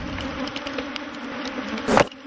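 Honey bees hum in a dense, continuous drone around opened hives at an African apiary, steady and close, with one louder buzz of a bee passing near.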